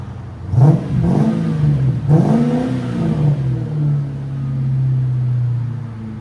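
A 1997 Ford Mustang GT's 4.6-liter V8 with Flowmaster Flow FX exhaust revs hard in a few quick bursts, then settles into a steady, loud drone close by.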